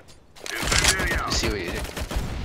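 Rapid gunfire bursts in a Counter-Strike: Global Offensive competitive match, close and loud, with players chatting over the shots.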